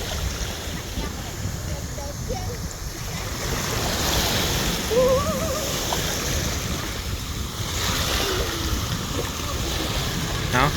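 Sea waves wash ashore at an island beach in a steady, rolling surge with wind buffeting the microphone. Brief voices and a child's sounds rise faintly over the surf.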